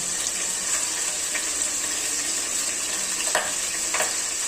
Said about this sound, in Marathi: तेल उडतंय